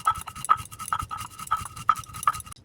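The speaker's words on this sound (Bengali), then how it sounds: "এই সর্ষেটা শিলনোড়ায় বেটে নেব।" Mustard seeds are ground on a shil-nora stone, making a steady rhythmic back-and-forth rasp roughly twice a second, close and fairly loud.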